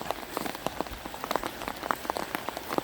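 Rain falls steadily on a rice field, a dense continuous patter with distinct drops hitting nearby surfaces throughout, fairly loud and with no talking.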